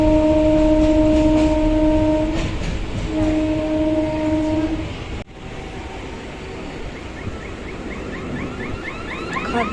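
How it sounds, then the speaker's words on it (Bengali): A passenger train sounds its horn in two long steady blasts, then rail rumble and clatter carry on without talk. "ট্রেনে উঠে পড়েছি।"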